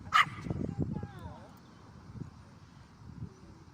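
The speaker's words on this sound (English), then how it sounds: "we've got two types of barking that goes on with Leo. We've got frustration barking" Pomeranian dog giving a few sharp frustration barks and yips near the start, tapering to scattered fainter yaps over a low room background.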